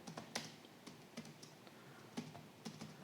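Typing on a computer keyboard while writing Python file-handling code, with sharp, irregular key clicks in small bursts, close and fairly quiet, with no talking.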